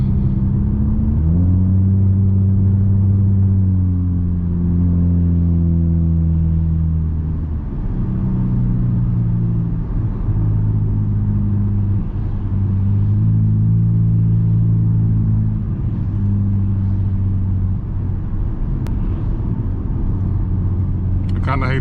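Straight-piped 2020 Nissan Altima exhausts while driving on a back road in traffic, a loud steady drone with rising and falling harmonic sweeps as the engine climbs and shifts through gears, continuous and close throughout.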